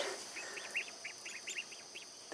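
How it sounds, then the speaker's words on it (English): Several ducks quack outdoors at night, a series of short, nasal calls repeating in irregular bursts at moderate distance over a quiet background. "The ducks survived their first night outside."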